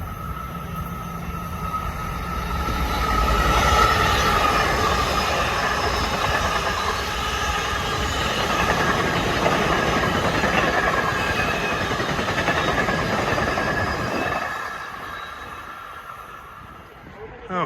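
An LIRR M3 commuter train, number 167 from Babylon to Penn Station, rolls loudly past the Valley Stream platform with a steady rumble and wheel clatter, then fades sharply near the end while someone talks over it.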